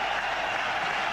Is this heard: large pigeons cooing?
no